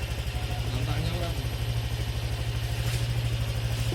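A fuel-injected Honda Vario 125 scooter engine idles steadily with an even, low pulsing throb, held close and constant throughout while a voice talks over it.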